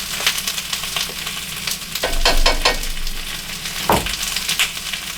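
Garlic cloves sizzle in a pan with sautéed squash, a loud, steady crackling fry with a few bursts of stirring and clattering, close up and without talk.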